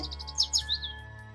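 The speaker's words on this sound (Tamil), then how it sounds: "தூக்கணாங்குருவி குஞ்சுகள் பயந்து காப்பாத்துங்க காப்பாத்துங்க என மீண்டும் அலறின" Frightened weaver bird chicks cry out in a rapid run of high, thin chirps that trail into a few longer squeaks. The calls are fairly quiet over a steady low hum, with no talking.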